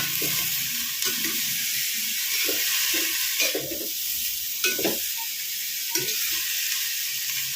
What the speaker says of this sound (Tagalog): At saka natin siya haluin.